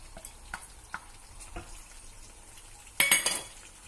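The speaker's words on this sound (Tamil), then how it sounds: "சேர்த்துட்டு நல்லா கிளறணும்." Raisins and cashews stirred into hot ghee in a pan for bread halwa, giving a soft continuous sizzle with scattered spoon scrapes, then a louder burst of frying and clatter near the end.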